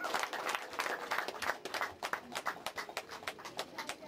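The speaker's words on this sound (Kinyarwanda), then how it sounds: "Amashyi n'abantu" Scattered clapping from guests at a Rwandan wedding ceremony, uneven claps rising and falling at moderate distance.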